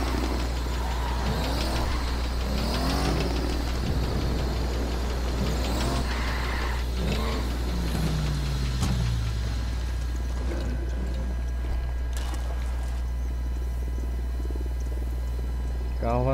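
A struggling car engine in Ghost Recon Wildlands drones as a steady low rumble through the whole stretch, with someone talking over it for much of the time.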